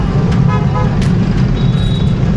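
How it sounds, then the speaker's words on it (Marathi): A truck coming head-on along a highway near a toll plaza, heard from a bicycle: loud, constant engine and road roar with a horn toot, traffic noise filling the whole stretch. "ट्रक येतोय पुढून."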